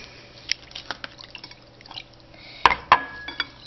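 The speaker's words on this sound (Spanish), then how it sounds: "Luego, agregar agua" Water is added to instant food in a container, giving light drips and splashes followed by a couple of sharp clinks against the vessel, close up and short.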